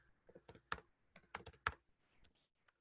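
Computer keyboard keys typed in short irregular bursts, crisp close clicks with brief pauses between groups, quiet and alone with no talking.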